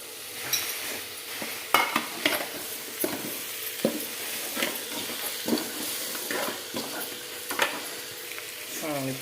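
Potato curry frying in a pan and stirred with a utensil, with steady sizzling broken by repeated scraping strokes and occasional clinks, close and fairly loud throughout.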